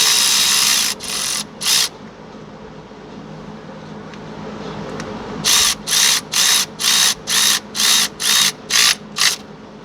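A tool works on a bolt during a Chevy Impala engine and transmission installation: three short loud bursts, a pause, then a quick run of about eight evenly spaced ratcheting bursts, close and loud.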